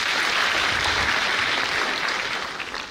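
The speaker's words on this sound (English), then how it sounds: "Let's clap for him." An audience of scholars at an education and leadership congress breaks into brisk applause for a club official, a dense burst of clapping that holds steady, then thins toward the end.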